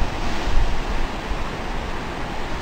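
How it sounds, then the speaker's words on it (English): Ocean waves along the coast of a beach in Oahu give off a steady, full rushing roar that stays fairly even and loud throughout, with no voices. "Look at the waves over there."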